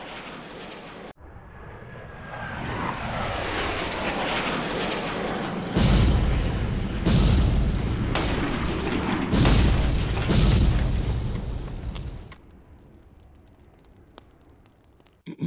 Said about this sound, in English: By the sounds of it, they bombed the port.